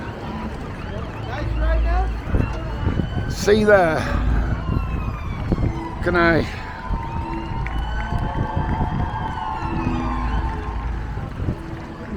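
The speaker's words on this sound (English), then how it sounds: "there's another ambulance coming down our way now" An ambulance siren sweeps past in a busy town street, its rising and falling wail loudest midway then fading, over crowd noise, cheering and people talking nearby.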